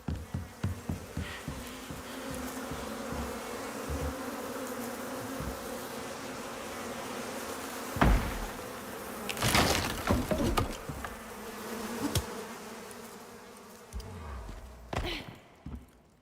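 Bees buzz steadily in a video game, a continuous droning hum with scattered soft footstep-like taps and a few louder bursts over the top, no speech heard.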